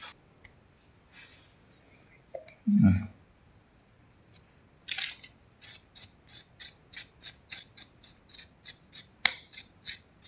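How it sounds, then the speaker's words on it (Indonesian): WD-40 lubricant sprayed onto the bushing of a Krisbow electric fan that hums but will not spin: a brief voice, then a sharp hissing spray burst followed by a rapid series of short, crisp bursts. "Kita semprot pakai WD teman-teman."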